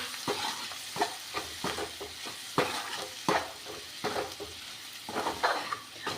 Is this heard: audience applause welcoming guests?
no